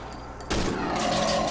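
A single loud gunshot in the horror video game Cry of Fear, a sharp blast followed by a sustained ringing echo and reverberant tail after a quiet lead-in.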